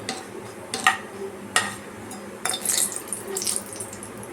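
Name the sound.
stirring dried red chillies in hot oil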